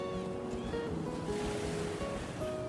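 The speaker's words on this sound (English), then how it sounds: "all that surrounds them is the vast, icy ocean" Open icy ocean waves wash in a steady, dense roar with wind buffeting the microphone, constant and unbroken with no voices.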